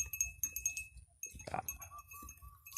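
Sheep on a Thai farm grazing in open fields bleat in short repeated calls, mixed with faint clinking and rustling, with a voice briefly heard nearby.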